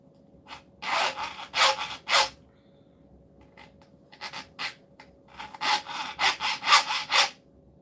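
A hand saw with freshly sharpened teeth makes test cuts in wood, two groups of strokes in a steady back-and-forth rasp, moderately loud and close, with short pauses between bursts.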